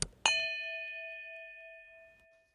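A notification bell sound effect: a soft tap followed by a bright metallic ding that rings out clearly and decays slowly over about two seconds, alone with no talking.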